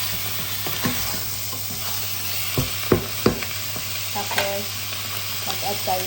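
Chicken pieces for tinola hit a hot pot and sizzle steadily while a utensil stirs them, producing a few sharp scraping clinks over a constant frying hiss, with no talking.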